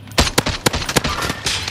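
Gunfire in Call of Duty Warzone: a quick string of sharp shots and impacts crackling one after another, loud and close, with no talking.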